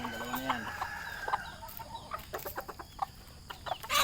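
Bantam chickens clucking close by in a yard, a run of short, uneven clucks and squawks with a brief crow-like call near the start, fairly loud, no talk.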